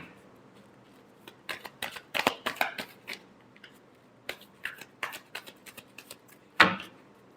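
Tarot cards being shuffled by hand in a quiet room, giving irregular crisp riffling and snapping bursts with short pauses between them and one sharper slap near the end.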